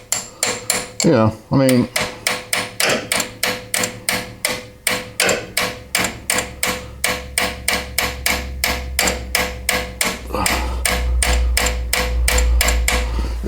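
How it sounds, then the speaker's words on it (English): A wrench taps repeatedly on metal in a garage, with a long run of sharp, evenly spaced clinks, loud and close. Someone briefly speaks partway through, and a low hum rises near the end. "You need to do some taparoos, little tappy tappies, just use a wrench."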